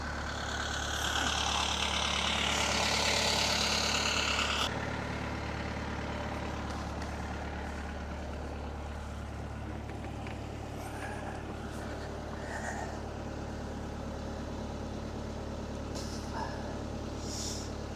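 A cold boat engine idles steadily with a low, constant rumble while flushing salt water out. A louder stretch at the start settles into an even drone.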